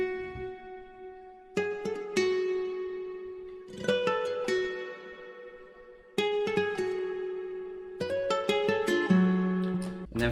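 A dark Spanish-style nylon guitar melody, programmed in FL Studio, plays plucked single notes and short arpeggiated phrases over a sustained low tone, clean and moderately quiet.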